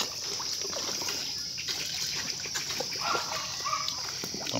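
Farmed arapaima suck feed from the water surface, giving splashy, gulping slurps and trickling water noises that come in irregular bursts over a steady watery background.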